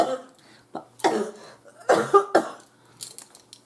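A person with a sore throat coughs in several rough, scattered bursts, close and fairly loud, with quiet pauses between them.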